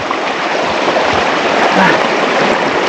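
Steady rushing water of a flowing river, broadband and continuous throughout, fairly loud and close with no clear pauses.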